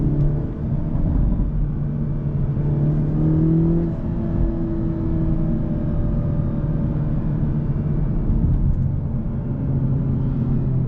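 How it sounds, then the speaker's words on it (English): Exhaust of a 2024 Hyundai Elantra N in a custom drive mode, revved to around 4,000 RPM and released, giving a steady close engine drone with brief rising revs and faint crackles as the throttle drops, no talk. "now I can induce the cracks and pops. Just throttle and let off the gas."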